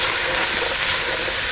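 Liquid poured into a hot pan to deglaze beef drippings for a beef and barley soup sets off a loud, continuous steamy sizzle and hiss, close and unbroken throughout.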